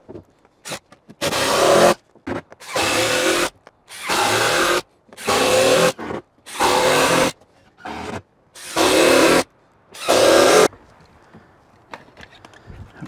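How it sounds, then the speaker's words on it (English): Power drill driving star-head screws into deck boards, seven or eight loud bursts of whirring of about a second each, separated by short pauses, close by, ending in quieter handling sounds. "We're using the star screws. You can see the tip. They hold really well so they don't"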